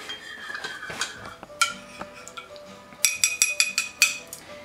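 A spoon stirs eggnog mocha in a cup, clinking against the sides in a run of sharp, bright taps that quicken into several close strikes toward the end, with no voices.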